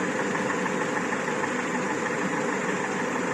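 A Renault Scenic 2 petrol engine idling smoothly after throttle body cleaning, running LPG gas, heard as a constant, even mechanical hum and hiss close up with no talk.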